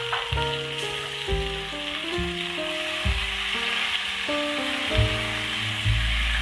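Large chunks from five tomatoes fry in hot oil in a pan for a desi-style tomato pasta sauce, giving off a steady, fairly loud sizzle under background music with a stepping melody.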